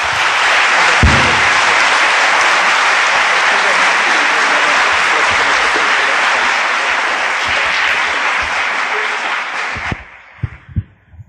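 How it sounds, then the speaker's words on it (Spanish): An audience at the Benemérita Universidad Autónoma de Puebla law faculty applauds to welcome a speaker, loud, sustained clapping for about ten seconds that stops abruptly, followed by a few scattered thumps. "Un aplauso, claro que sí."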